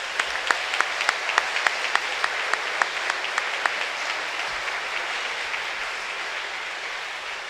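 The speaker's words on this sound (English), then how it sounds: "Can we give a round of applause for our amazing students?" Audience applause at a junior high school band spring concert, a full crowd clapping steadily with a few sharp distinct claps early on, then fading to a softer sustained patter.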